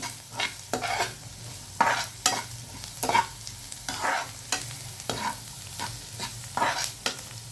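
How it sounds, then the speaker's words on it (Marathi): Onions frying in oil until golden, a continuous sizzle broken by repeated scraping and stirring strokes in an irregular rhythm, close and fairly loud, with no talking. "अजून थोडासा सोनेरी रंग येईपर्यंत तळून घेऊया तेलामध्ये, म्हणजे फ्राय करून घेऊ."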